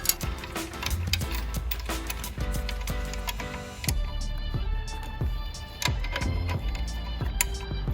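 A worn bolt head on a lawn edger is worked loose with adjustable channel locks, giving repeated sharp metallic clicks and ratchety taps at an irregular rhythm over a steady low background.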